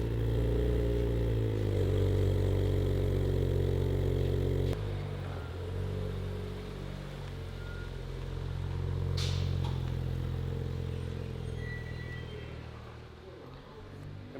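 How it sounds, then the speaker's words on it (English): An Audi B9 S4 fitted with a new rear sway bar runs in a garage with a steady low engine drone, a loud idle that settles a little lower partway through, with occasional clatter and a brief sharp click. "Let's fire her up, guys, and take her outside to see how she drives with the new mods installed."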